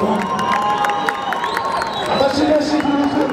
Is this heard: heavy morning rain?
no